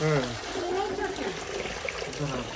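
Water trickles and drains steadily out of the bottom of a newly filled tulsi vrindavan planter, a continuous wet splash with faint voices in the background.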